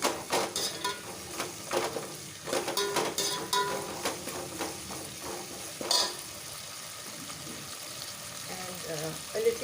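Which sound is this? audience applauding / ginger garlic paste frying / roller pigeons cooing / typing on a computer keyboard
ginger garlic paste frying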